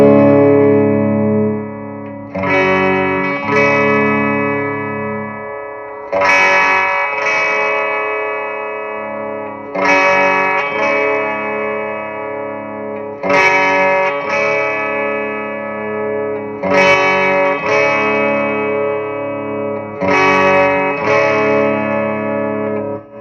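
An electric guitar through a Somnium Toneblender fuzz pedal strikes sustained, distorted chords in a slow repeating pattern, each ringing out before the next, with no talking.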